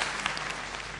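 Studio audience applause on a Bengali TV talk show, a steady wash of clapping that fills the whole moment without a break and stays fairly even in loudness.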